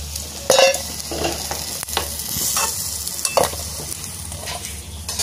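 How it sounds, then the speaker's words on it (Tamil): Dried anchovy fish frying in hot oil in a Jaffna home kitchen, a steady broadband sizzle with a few louder bursts and scraping stirs, no talk. "இப்ப கருவாடை பொரிஞ்சிட்டு எடுப்போம்"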